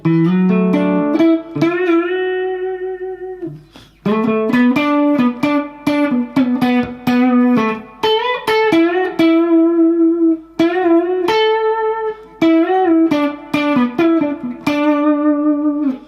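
Electric guitar with an overdriven, effected tone plays a quick melodic lick of bent and sliding notes from a song intro, part of a slide guitar part, loud and up front with no talking.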